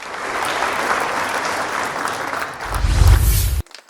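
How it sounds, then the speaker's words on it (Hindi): Loud applause from the audience at a quiz show held in a Buddhist vihara in Nagpur, steady clapping that swells near the end with a low thump, then cuts off abruptly. "दोनों के लिए जोरदार तालियां।"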